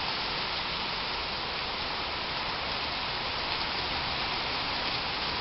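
Heavy storm rain in Blumenau pours down as a steady, dense broadband hiss, loud and unbroken throughout, with no voices.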